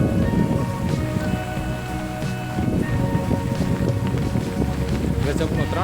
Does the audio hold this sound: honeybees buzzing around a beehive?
no